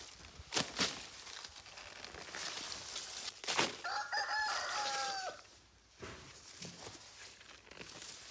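Chickens cluck at a rural garden while a rooster crows once in a clear, drawn-out call midway, with scattered footsteps and knocks around it.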